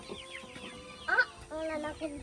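A few close chickens give short clucks and squawks, with a faint voice in the background.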